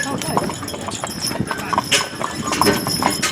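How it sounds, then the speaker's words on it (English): Steady clip-clop of horse hooves from a team of horses pulling a wagon on a hard surface, close and rhythmic, with people talking over it. "so I can see the horses better"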